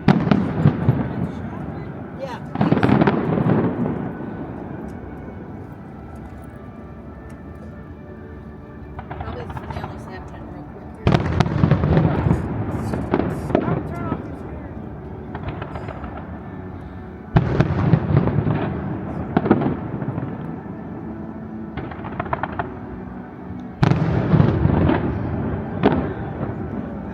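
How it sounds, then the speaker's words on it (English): Fireworks burst over the water at night on a Disney boardwalk, loud booming volleys arriving in several bursts with quieter gaps between, and people talking in the background. "Fireworks over the water."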